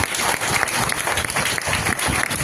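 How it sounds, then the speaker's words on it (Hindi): Audience applause at a business talk in Jamshedpur, a steady dense clapping from a large crowd filling the room, even and sustained throughout with no voices on top. "तो ताली कौन बजाएगा?"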